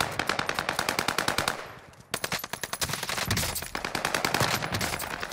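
Rapid automatic gunfire in a video game, loud and nearly continuous bursts with a brief lull near the middle before the shooting resumes in dense volleys.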